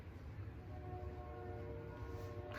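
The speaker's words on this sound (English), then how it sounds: "oh my god, it's a train." A train passing at a distance, a low steady rumble with faint tonal hum, fairly quiet and continuous, with no talk over it.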